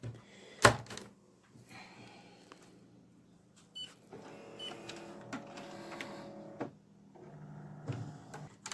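A Canon PIXMA MX495 inkjet printer powering back on: a sharp click near the start, then whirring and grinding mechanical motor runs in stretches, close and fairly quiet, with soft room noise between.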